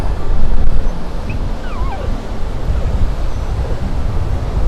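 Ocean surf and wind roar steadily at Thor's Well on the Oregon coast at Cape Perpetua, loud and close, with a strong gust at the start and no talking.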